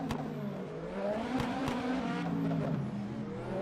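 Ford Mustang race car in the Le Mans Ultimate sim racing game at Barcelona, a steady loud engine roar with shifting pitch as it passes through traffic, no talk.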